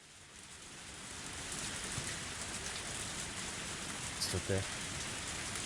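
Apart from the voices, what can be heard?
rain pouring in the video game Higurashi When They Cry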